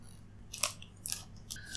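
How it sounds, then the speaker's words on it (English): A new knife slicing through the tight seal of a Lenovo Ideapad Slim 3 laptop box, three short, crisp cutting and tearing bursts close up in a quiet room, with no talk. "So I have cut the seal off."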